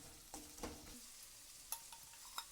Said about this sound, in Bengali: সব দিয়ে এবার ভালো করে একটু নাড়াচাড়া করে নেব। টমেটোগুলো নাড়াচাড়া করতে করতেই টমেটোগুলো গলে যাবে আস্তে আস্তে।